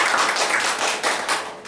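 Church congregation applauding during a Sunday worship service, a steady wash of many hands clapping at close range with no speech over it.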